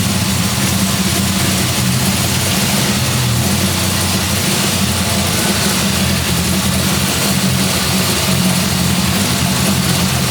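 A problem car's engine idles steadily at about 7 psi boost, a loud, close, continuous low rumble that holds even throughout with no voices over it.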